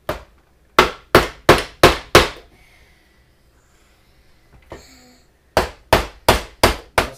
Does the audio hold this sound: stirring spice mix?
no